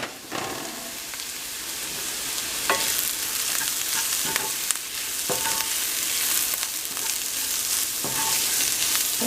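Vegetables sautéing in a pan for albondiga meatball spaghetti soup, a continuous broad sizzle with periodic utensil clicks and stirring scrapes, close and steady throughout.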